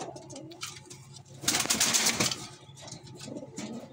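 Pigeons coo inside a racing pigeon loft, soft throaty calls mixed with a burst of rustling and a brief flutter of wings in the middle, fairly close.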